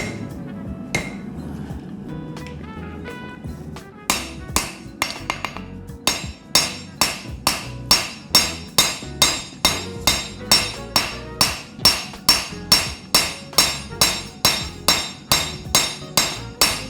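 A hammer forges a kukri blade, a steady run of sharp ringing metallic strikes at about one per second, close and loud, after a few scattered softer blows at the start.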